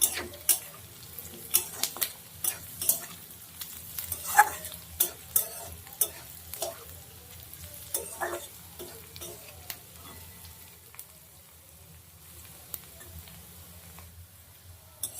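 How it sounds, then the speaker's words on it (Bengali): Potatoes, onion and chopped chilli frying in a pan with a pinch of turmeric, stirred with a spatula: repeated scraping strokes in an irregular rhythm over a steady low sizzle, close and clear with no talk. "পেঁয়াজ, লঙ্কা কুচি আর আলু অল্প ভাজা ভাজা হয়ে গেছে, একদম অল্প সামান্য একটু হলুদ দিয়ে দেব, দিয়ে ভালো করে একটু নাড়াচাড়া করে দেবো"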